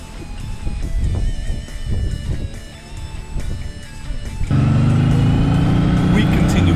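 Suzuki M109R 1800cc and Ducati X Diavel S motorcycles ride near Vale of Avoca. Their engines rumble under wind noise and then swell into a loud, steady, close drone in the last seconds.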